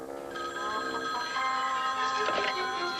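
An old telephone bell rings out in a steady, sustained trill, fairly clear and close, with faint background noise underneath.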